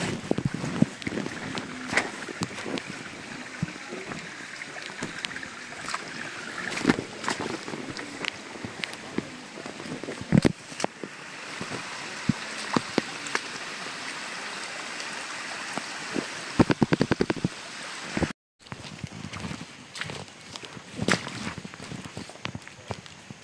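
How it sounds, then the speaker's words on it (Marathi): Babbling forest streams on the Andharban trek rush and gurgle in a steady wash of water noise, heard with wind buffeting the microphone and bursts of footsteps along the trail. "आणि हे खळखळणारे ओहळ झरे, असं नॅचरल पाणी"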